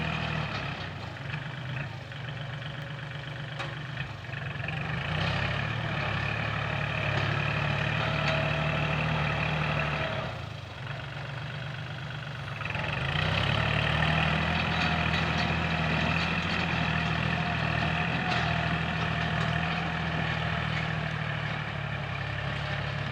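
A Kubota L4018 tractor's engine and exhaust run steadily in a deep, continuous diesel rumble that dips briefly midway and then picks back up.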